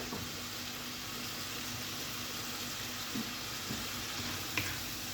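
Onions and spices sizzling in a pan with chicken, a steady close frying hiss that runs evenly throughout, with a couple of faint clinks.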